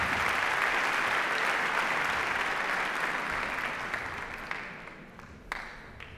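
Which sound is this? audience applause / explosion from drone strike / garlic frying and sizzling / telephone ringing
audience applause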